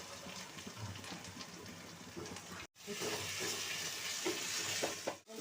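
Ginger, garlic and fennel paste sizzles in a hot pan, a steady broadband frying hiss with a brief break midway before resuming just as loud.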